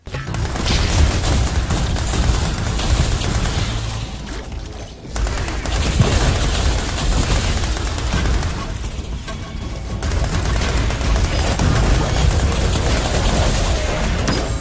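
Gunfire in a side-scrolling shooter game on PS4/PS5: a loud, dense barrage of rapid shots and booms running almost continuously, with brief lulls near the five- and ten-second marks.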